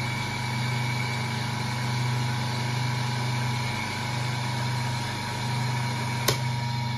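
A three-phase asynchronous electric motor running as a generator with no capacitor, turning at about 1360 rpm, gives a steady, loud, even hum and whine throughout, with one brief click near the end.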